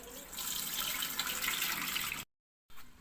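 Rice and moong dal are washed under a running tap, a steady close hiss of flowing, splashing water that cuts off abruptly and then briefly resumes.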